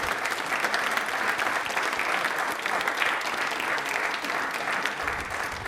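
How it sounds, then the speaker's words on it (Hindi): A studio audience on a Rajasthan TV quiz show bursts into dense, sustained applause, a loud, steady wash of clapping that holds for several seconds without pause or voices. "एक बार तालियां इनके लिए जोरों से बजा दीजिए प्लीज।"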